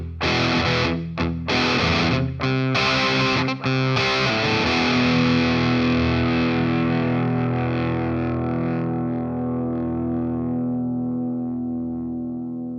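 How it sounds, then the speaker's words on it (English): An electric guitar runs dry through the ultra gain channel of a Marshall DSL 20 amp, giving heavy distortion: a few loud, choppy strummed chords followed by a big chord left to ring and slowly fade, with no voices. "Kenny's going to be running through the ultra gain channel of his Marshall DSL 20 amp"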